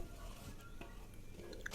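A spoon stirs coconut milk in a pot of chicken rendang boiling over high heat, giving soft scraping and bubbling sounds at close range with no talk.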